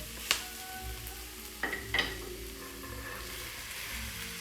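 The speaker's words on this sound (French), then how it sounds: "On mélange." A spoon stirring white bean soup in a cooking pot, with a few sharp scrapes and clinks against the pot over a steady low sizzle.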